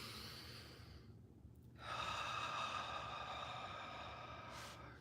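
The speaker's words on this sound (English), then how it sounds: "So inhale in." A person draws a long, deep inhale during a guided breathing exercise, a close, airy rushing breath that swells after a brief pause and holds steady before easing off.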